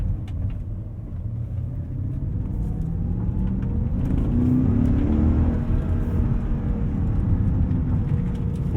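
A BMW E39 M5's 4.9-liter naturally aspirated V8 pulls steadily under acceleration, a deep continuous drone building in pitch and loudness from inside the car, with no voices.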